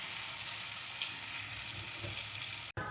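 Ghee sizzles steadily in a hot pan of chicken curry, a continuous close, even hiss that is briefly cut off just before the end.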